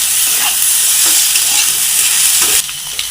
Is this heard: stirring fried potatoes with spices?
yes